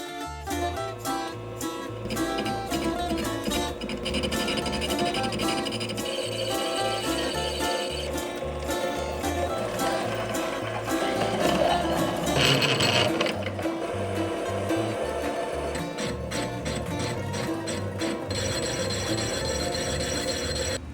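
A cast crankcase front or back plate for a homemade gas engine being machined down: a steady, loud, grinding mechanical whir with rattling, ratchet-like clatter that runs unbroken throughout, with no voices.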